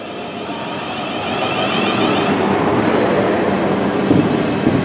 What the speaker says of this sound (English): departing now is 444045 with empty stock over to Bournemouth carriage sidings